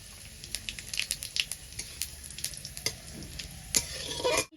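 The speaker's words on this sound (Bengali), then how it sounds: "এবার আমি ফর্ম দিয়ে দেবো গোটা জিরে একটা তেজপাতা আর শুকনো লঙ্কা" Whole cumin seeds, a bay leaf and dried chilies hitting hot oil, a busy crackling sizzle full of rapid spitting pops, close and lively, ending in a louder burst.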